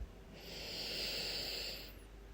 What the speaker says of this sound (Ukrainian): вдих і видих, вдих